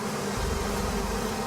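Honeybees buzz steadily at a nearly empty hive, a continuous close droning hum with no voices.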